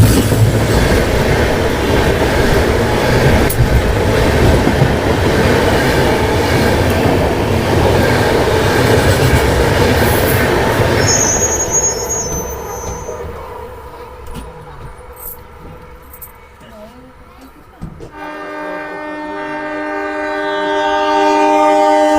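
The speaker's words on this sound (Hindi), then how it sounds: "कोई ट्रेन आ रही है यहाँ पर और सामने ग्रीन सिग्नल भी है" An express train between Bareilly and Bhuj roars loudly past a railway crossing for about eleven seconds, its wheels and cars rumbling continuously, then fades to distant quiet before a long horn-like tone sounds near the end.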